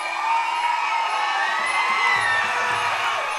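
Boxing arena crowd at a women's fight night, a broad, steady wash of cheering and whooping voices that stays loud and continuous throughout, with a few shouts standing out.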